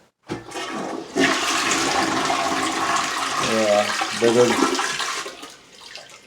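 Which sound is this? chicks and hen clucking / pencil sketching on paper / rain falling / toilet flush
toilet flush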